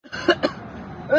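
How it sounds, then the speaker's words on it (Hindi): A person coughs twice in quick succession, close and fairly loud, followed by a brief pause and a rough vocal sound. "बस हो गई खांसी"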